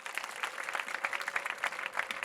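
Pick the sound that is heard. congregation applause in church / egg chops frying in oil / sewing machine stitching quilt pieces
congregation applause in church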